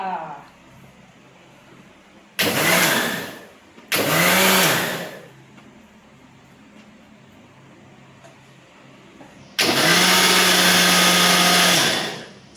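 A kitchen blender whirs through mangoes for a mango shake in three bursts, two short runs and then a longer one, loud and close with quiet pauses between.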